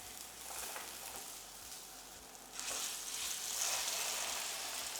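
Soya tikki patties sizzling in a hot pan, a steady bright frying hiss that grows louder midway as more patties go in, with no voices.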